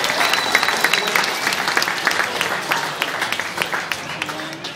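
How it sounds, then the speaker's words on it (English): An audience at a knife event claps in sustained applause, a dense, steady patter of many hands close by that lasts the whole stretch. "give me applause to Ernie"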